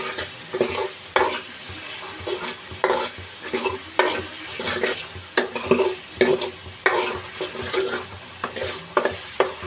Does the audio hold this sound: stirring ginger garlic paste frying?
yes